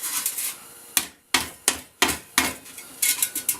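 Hammer blows strike metal on a forge body being leveled, a series of sharp ringing impacts spaced irregularly about half a second apart, close and clear with no talking.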